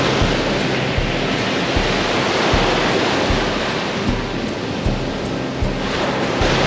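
Gentle surf washes steadily onto the sand at Hazards Beach in Tasmania on a calm day, a continuous loud rush of breaking waves with some wind noise and no talking.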